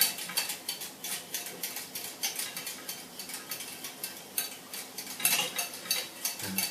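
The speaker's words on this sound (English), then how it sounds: "So I literally just sprinkle the cacao powder and I stir at the same time." Cacao powder whisked into a raw chocolate mix in a bowl, giving a steady run of close, rhythmic scraping and clinking strokes with no talk.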